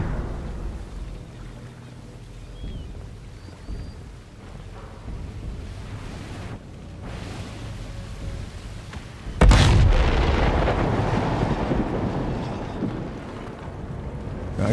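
V2 rocket launch and explosion in the video game Sniper Elite 5, with a low rumble building and then a sudden loud boom that keeps roaring on as a long, heavy blast.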